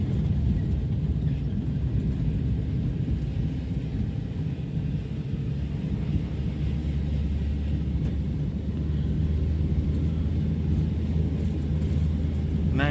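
A Daihatsu car rolls down a long hill held in second gear, giving a steady low engine and road rumble that stays constant and close throughout, with no voices.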